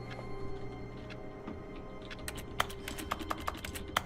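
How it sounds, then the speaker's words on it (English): Keys clack on an office computer keyboard in The Stanley Parable, a quick run of close, light taps picking up in the second half over a steady background hum. "Sounds like a keyboard."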